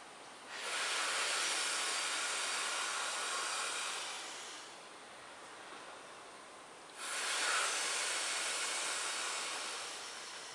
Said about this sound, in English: Alright, and blow your air out.